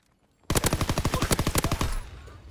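Rapid automatic gunfire from a WWII-era video game match, a burst of about twenty sharp evenly spaced shots lasting over a second, loud and close, followed by a brief fading tail.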